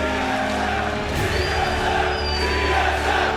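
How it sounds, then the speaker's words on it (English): Esports arena crowd at a League of Legends playoff match between LMQ and TSM, a steady broad cheering roar under a constant hum, swelling slightly midway. "as you can hear the crowd cheering"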